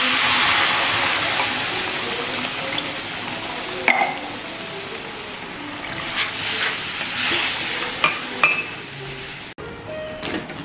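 Water pours into sizzling semolina upma in a cooking pan, a broad hissing rush that slowly settles, with scattered clinks of a spoon against the pan as it is stirred close by.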